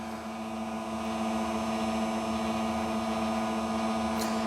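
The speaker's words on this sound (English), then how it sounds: "They're not super fast motors, but they are pretty strong, powerful motors" Auto level jack motors whir on a 2026 Alta 2800KBH bunkhouse travel trailer, a steady low-geared electric hum with a constant tone, close and unbroken throughout.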